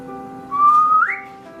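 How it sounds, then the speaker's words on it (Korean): A single clear whistle from a stage actor during a theatre performance slides upward in pitch and ends on a higher note, heard over a steady background drone. "크로모의 휘파람 소리가 들린다."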